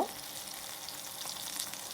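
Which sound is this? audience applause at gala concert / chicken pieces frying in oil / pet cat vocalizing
chicken pieces frying in oil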